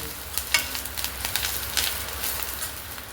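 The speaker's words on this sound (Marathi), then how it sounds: "हा सगळा मसाला मी एक दोन मिनटं परतते" Masala with fresh coriander sizzles and crackles in a hot pan, a steady frying hiss broken by sharp spatter pops and scraping stirs, close and alone.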